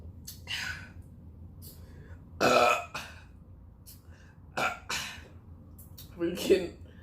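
Loud, throaty burps erupt in several separate bursts, one long and resonant near the middle and another toward the end, each standing out clearly from a quiet, noisy room.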